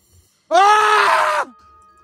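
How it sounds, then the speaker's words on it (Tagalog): A man lets out one loud, sustained cry of fear lasting about a second, tonal and wavering, then dropping off abruptly into near silence. "Napasigaw siya at nahihintakutan."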